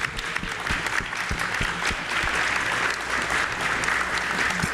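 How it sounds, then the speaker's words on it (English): A crowd at a Juneteenth political event applauds for a mayor, loud sustained clapping with a few sharp individual claps standing out throughout. "let's give Mayor Mahoney a round of applause"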